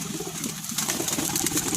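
Pigeons coo close by in a soft, repeating throaty murmur that carries steadily through the short stretch with no talk.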